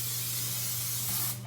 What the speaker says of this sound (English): Here's my loaf pan. I'm going to spray that with Pam.